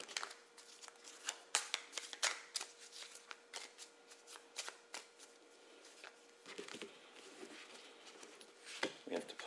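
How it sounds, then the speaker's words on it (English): Cards being riffled and shuffled repeatedly, crisp rapid fluttering bursts close up, with soft handling noises between shuffles. "We're going to shuffle these citizen cards up"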